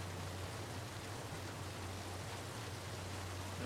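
Steady rain falling in the Heavy Rain video game on PS3, a faint continuous hiss of drops with a low hum underneath and no other sounds.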